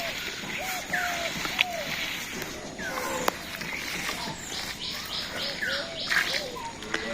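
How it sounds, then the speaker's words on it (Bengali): Wild birds in the trees and scrub around a rural house give scattered chirps, whistles and short repeated notes, some near and some distant, over a quiet outdoor background. "এগুলো ডাকাডাকি করে, তো বোঝা যায় না কই দিকে ডাকতেছে।"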